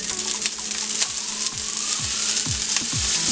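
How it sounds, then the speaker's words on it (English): Half a lemon's juice squeezed into a hot frying pan of cooking chicken: a steady close sizzle with scattered small pops and crackles, no talking. "Now I'm going to go ahead and squeeze my lemon. in the pan."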